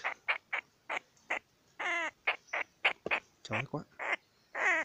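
A trapped wild bird of unknown species, caught in a snare trap outdoors, gives loud, repeated clucking calls much like a chicken, rapid bursts in a steady rhythm close by, with someone briefly talking over them.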